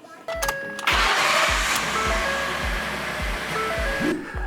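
A car engine cranked over with help from a TOPDON V2200PLUS battery jump starter, giving a steady rhythmic starter churn that catches into a broad, loud running roar, close to the microphone, ending in a brief dip.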